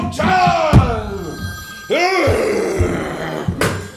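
An old-style telephone bell rings in short loud bursts, three rings spaced about a second or more apart, with a voice heard between them.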